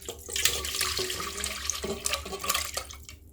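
Liquid poured into a cooking pot while making Thai paddy-crab laab: a steady splashing, gurgling pour that runs for about three seconds, close and fairly loud, with no talking.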